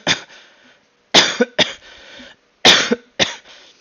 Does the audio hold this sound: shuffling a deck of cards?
no